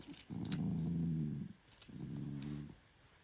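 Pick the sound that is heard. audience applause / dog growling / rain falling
dog growling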